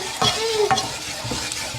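A spoon stirs roux in a pot, giving soft scraping strokes at a steady rhythm over a faint, continuous sizzle of frying flour and fat, close and fairly quiet.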